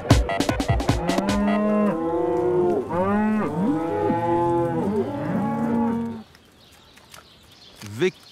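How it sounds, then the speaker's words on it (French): A cow lets out several long, loud mooing calls close by, the sustained bellows running back to back before fading into quiet, then a short final grunt. "V comme vache."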